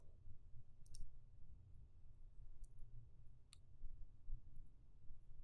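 Faint, sharp mouse clicks on a button, a few isolated ticks spaced a second or so apart over a low steady background hum.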